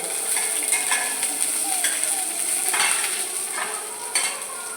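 Sliced onion hitting hot oil with dried red chilies and spices in a pan, a steady bright sizzle broken by spoon scrapes and metallic clinks against the vessel, close and fairly loud with no voices.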